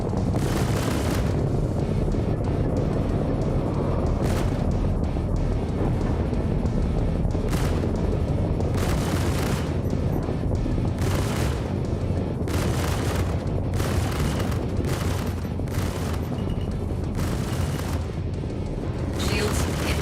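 Spaceship cannons fire in an asteroid field in Star Citizen, making repeated loud booming bursts at irregular intervals over a dense, rumbling background, with a person talking at times.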